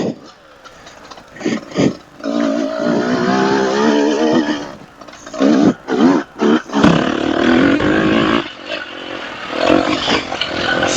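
A Beta 200RR dirt bike engine while riding, its pitch rising and falling through revs, with brief drops and sharp bursts of throttle close to the rider.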